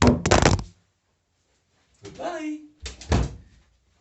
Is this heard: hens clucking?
no